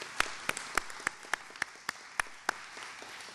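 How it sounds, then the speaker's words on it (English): Sparse applause at a hospital grand-opening countdown event, a handful of distinct claps spaced roughly every quarter second, fairly close and fading toward the end with no voices. "So let's give that a round of applause."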